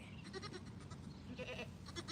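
Goats bleating on a farm creamery, several repeated calls overlapping close by against steady farmyard background noise, with no talking.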